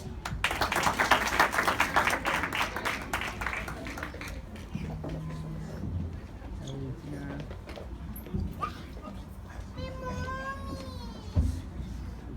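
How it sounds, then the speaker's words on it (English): A small group at a graduation party claps steadily and close for about four seconds before it tapers off into people talking, with a few faint squeaks in the background. "Let's give a round of applause."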